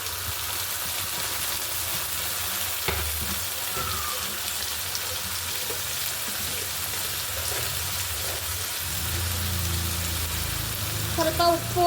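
Onions and tomato frying in a pan for tomato gojju, a steady dense sizzle and crackle running throughout at even loudness, with a few faint clinks and a louder bubbling patch near the end; no talking.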